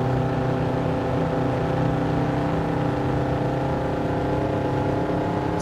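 A racing car in Gran Turismo 7 on the Grand Valley circuit, its engine droning loud and steady at high revs, close and continuous, with no talk over it.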